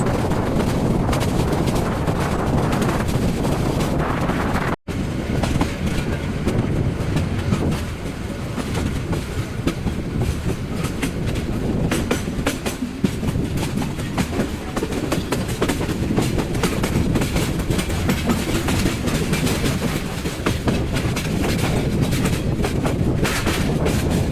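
Parabat Express intercity train rumbles along a big curve, its loud continuous clatter of wheels and carriages holding up close for the whole stretch, with a brief sharp break early on and no talking.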